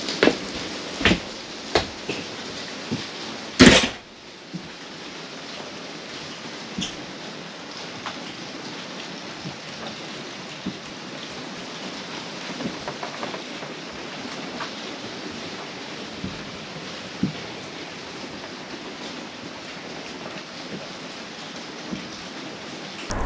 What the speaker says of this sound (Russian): давайте послушаем акустическую обстановку в Спрингдейле во время дождя